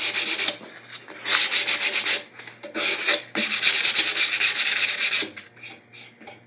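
Steady back-and-forth sanding of a wooden guitar body being taken back to bare wood after a pore-fill coat, rhythmic rasping strokes in close, loud bursts with brief pauses between passes, no talking.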